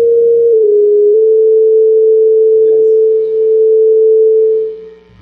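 A steady computer-generated oscillator tone pitched at A sounds loud and pure, holding constant with a slight pitch shift near the start, then fading away at the end.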